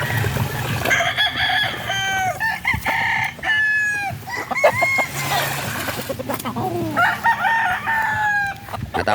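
Broodcock roosters crow repeatedly while hens cluck on a poultry farm, several loud, close calls overlapping throughout with no talking.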